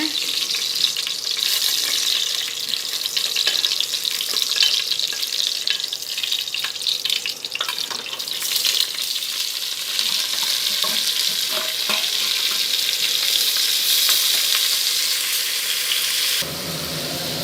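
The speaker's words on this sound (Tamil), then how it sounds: "வெங்காயம் நல்லா வதங்கணும்." Steady crackling sizzle of onions frying in sesame oil for Pondicherry-style mutton biryani, with stirring scrapes throughout, continuous and close, fading down at the very end.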